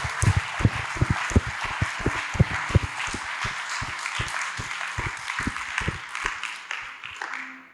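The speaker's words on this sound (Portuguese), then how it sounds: "Você pode aplaudir o Senhor?" A church congregation claps together in response to the pastor's call to applaud the Lord, a rhythmic round of fairly loud hand claps that thins out and fades toward the end.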